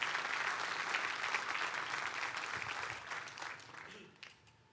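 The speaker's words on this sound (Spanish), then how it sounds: "Le puede dar un fuerte aplauso a Dios por eso." A church congregation applauds together during a sermon, a dense, steady wash of clapping that holds strong and then thins and fades toward the end.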